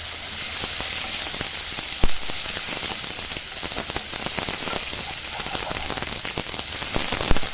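Tomato and spices sizzle and fry in a pan for paruppu urundai kuzhambu, a steady close hiss broken by scattered sharp crackles and pops of stirring.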